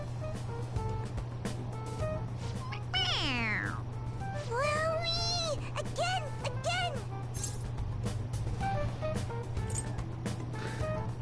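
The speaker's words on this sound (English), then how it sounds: "Why do we got a cat and shit? Did someone bring their pet to our crib?" A cat in Persona 5 Royal lets out several distinct, drawn-out meows of varying pitch, clustered in the middle of the stretch over a constant low electrical hum and scattered clicks.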